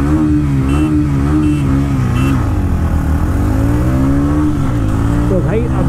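Two motorcycles, a TVS Ronin and a Honda CB350RS, drag racing side by side; loud, steady engine drone with shifting pitch throughout, heavy wind buffeting, and someone talking over it.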